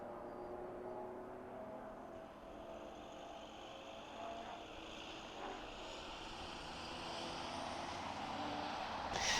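A small aircraft arrives at an airport during an airshow: a faint, distant engine drone holds steady and slowly swells over several seconds, with no voices.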